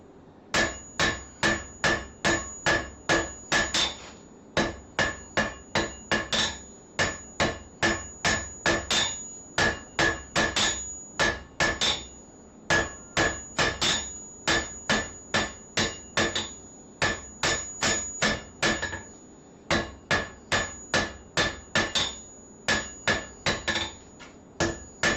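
Hand hammer forging hot metal to draw out a taper: loud, sharp ringing blows in fast rhythmic bursts of several strikes, separated by short pauses, repeated steadily over the whole stretch.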